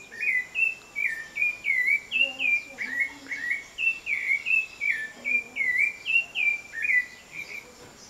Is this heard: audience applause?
no